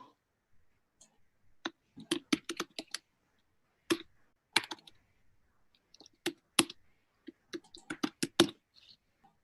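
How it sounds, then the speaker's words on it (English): Bursts of typing on a computer keyboard with rapid clustered key clicks separated by short pauses, close and fairly crisp, with no voices. "That's why the typing takes so long."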